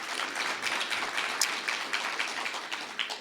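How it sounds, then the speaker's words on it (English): An audience at a member luncheon gives a round of applause, a soft, even patter of many hands clapping at a moderate distance with a few sharper claps standing out, steady for several seconds. "All right, round of applause."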